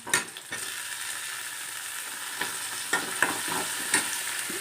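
Chopped tomatoes sautéing in a pan for muchaka curry, a close, continuous sizzle and hiss broken by repeated clinks and scrapes of a stirring spoon, with no voices.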